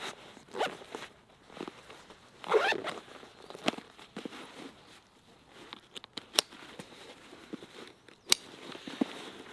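A zipper runs on the small internal pouch of a Rugged Designz Claymore bag made of 500D Cordura, with several quick, close, scratchy pulls and bursts spread through the clip and no talking.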